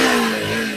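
A Bajaj Pulsar NS 125 motorcycle engine at a bike showroom near Kolkata, heard as a loud, steady near idle hum with no talk over it.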